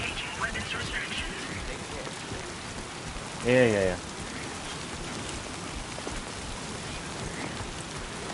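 Steady rain in the video game Death Stranding II, a continuous dense hiss of drops on surfaces, with a voice speaking briefly over it midway.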